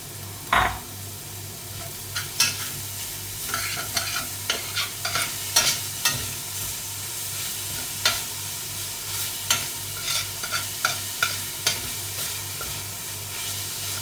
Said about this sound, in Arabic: بضلني احركه عشان ما ينحرق